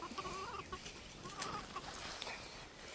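Chickens cluck in short, scattered bursts at an outdoor spot where birds and farm animals are being fed, with a steady background hiss. The clucks are faint to moderate and come from several birds.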